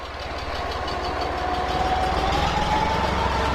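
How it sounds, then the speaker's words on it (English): A tractor engine chugs with a steady, knocking throb, growing slightly louder as it rumbles past a women's football match nearby, with no talking. "I had to allow for a tractor to go past"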